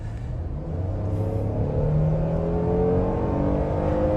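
Hyundai Palisade with the 3.8-litre 295 hp gasoline engine, in sport mode, revving up to about 6500 RPM. A steady, loud engine roar climbs in pitch from start to finish, with no talking over it.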